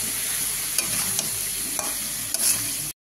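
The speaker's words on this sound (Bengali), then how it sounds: "এবার এটাকে আস্তে আস্তে আমি কষে নেবো ভালো করে, এইভাবে" Spices with chili powder and green chilies being stir-fried slowly in a pan for maan kochu fish curry, a steady close sizzle broken by a few spatula scrapes and taps before cutting off abruptly.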